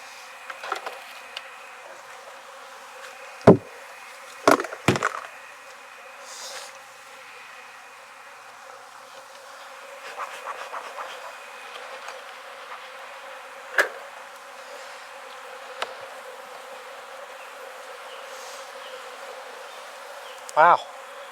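Honey bees buzz steadily in a dense, continuous drone in an open hive, with a few sharp knocks and clicks of equipment scattered throughout.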